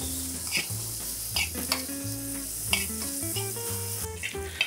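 Pork jowl browning in oil in a pan, a steady crackling sizzle with repeated stirring scrapes and clinks of a utensil, close and moderately loud, with faint background music.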